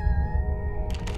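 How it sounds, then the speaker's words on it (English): In the Silent Hill 2 Remake, a cat lets out a single drawn-out meow with clear tonal harmonics, heard fairly close over a low rumbling background and followed by a short burst of noise. "I just heard a cat."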